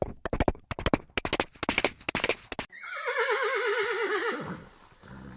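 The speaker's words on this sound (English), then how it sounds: "the dwarfs were trying to wake Snow White, a handsome young prince came riding by." A horse neighs in a long, wavering whinny after a quick run of clip-clopping hooves as a prince rides by, both sounds close and clear with no talk.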